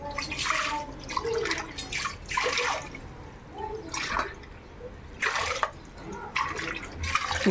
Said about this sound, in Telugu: ఈ పప్పు బాగా కడుక్కున్నా ఈ విధంగా కడుక్కోవాలి